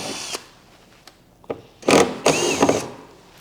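Small factory dummy screws are backed out for a TitanX 12.5 steering kit install, with a few faint clicks and then two short, close whirring bursts of a driver.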